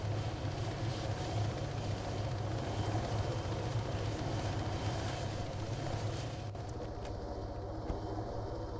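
Propeller aircraft engine in the military game ARMA 3, a loud, steady droning hum that holds constant throughout and eases slightly near the end, with no voices over it.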